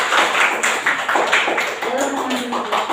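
A school audience at an academic coaching session claps in a quick, rhythmic burst of close, lively applause, with a voice speaking over it.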